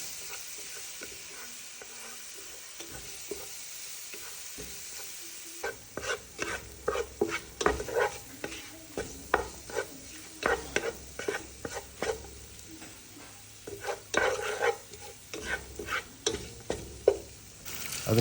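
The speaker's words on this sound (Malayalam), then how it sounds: "അതിൻ്റെ പച്ചമണമൊക്കെ ഒന്ന് മാറി കിട്ടുന്നത് വരെ ഇളക്കി കൊടുക്കുക കേട്ടോ" Ginger, garlic and green chili paste fries in a pan for a Kerala-style beef roast, stirred with a spoon. It is quiet at first, then brisk rhythmic scrapes ride over a steady close sizzle.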